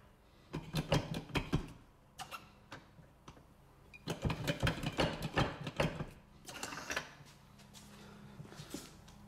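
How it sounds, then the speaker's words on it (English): A 16-ton hydraulic crimper presses USA-made cable lugs, giving close mechanical clicks, ratcheting clacks and short bursts of pumping over a low hum, in irregular clusters with quieter pauses. "We then take our 16-ton hydraulic crimper and get this all crimped up here."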